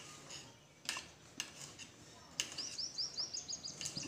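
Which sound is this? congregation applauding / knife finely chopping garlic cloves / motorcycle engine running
knife finely chopping garlic cloves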